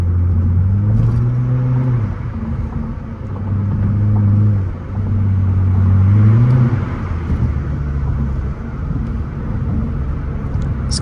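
A straight-piped Nissan Altima engine revs up and down repeatedly with loud, rising and falling exhaust drone, no voices, close by on a New York street.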